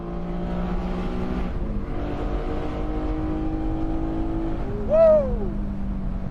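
A Porsche Boxster Spyder engine in loud exhaust mode idles with a steady hum, then blips sharply to a high-pitched rev around the five-second mark before settling back to idle, close and loud.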